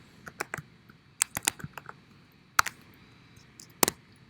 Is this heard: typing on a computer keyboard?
yes